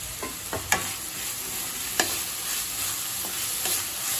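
Onions with green chillies and ginger sauté in a pan, giving a soft, even sizzle broken by several sharp scrapes and taps of a spoon stirring, fairly quiet and without speech.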